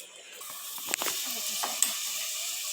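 Two whole garlic cloves sautéing in butter give off a soft, steady sizzling hiss with a few faint pops and stirring touches.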